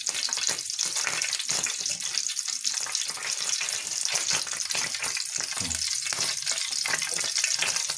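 Lamb ribs fry in a hot pan with a steady, dense sizzle and crackle, close and fairly loud, unbroken for the whole stretch with no one talking.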